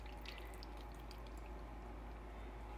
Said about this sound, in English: Pour the juice over the top.